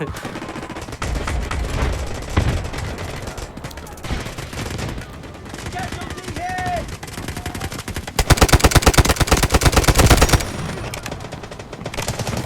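Video game gunfire in the military shooter Delta Force, with dense bursts of automatic weapon fire throughout and a louder, rapid sustained volley near the end, mixed with game effects and occasional voices.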